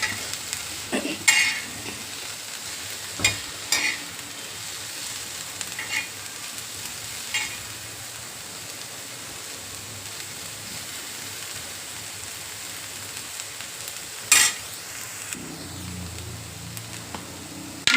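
Capsicum sautés in oil on a flat griddle tava with a soft, steady sizzle, broken by sharp clacks and scrapes from stirring every few seconds and a louder toss near the end.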